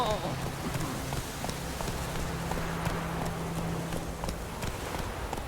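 Galloping hooves of the horse Roach in The Witcher 3, a steady fast clip-clop running continuously under a constant low hum and noisy ambience.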